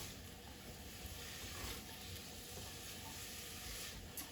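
Onions cooking in a pan for miso mushroom gravy give a soft, steady sizzle and hiss, faint and continuous with a few light stirring scrapes.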